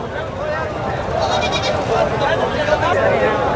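Goats bleat at a busy livestock market, with repeated wavering calls rising over a dense crowd and people talking close by.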